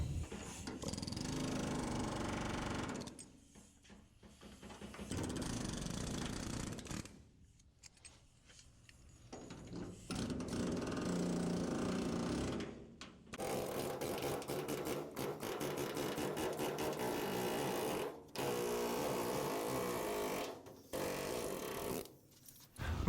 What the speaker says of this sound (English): Then I angled my air hammer and struck the damaged panel that needs to be removed